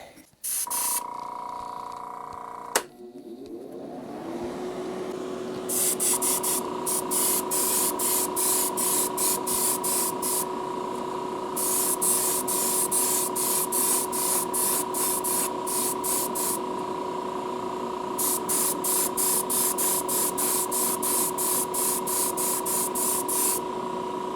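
A spray gun hisses steadily while applying primer to a 1950 Mercury, with a long continuous spray broken by rapid pulsing bursts, close and loud after a brief click at the start.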